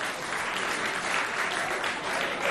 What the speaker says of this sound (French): On applaudit encore Naomi et sa jumelle.